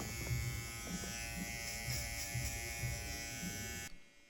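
Hair clipper with its blade lever closed, buzzing steadily and close up during a skin fade haircut, with faint intermittent contact sounds, then cutting off abruptly.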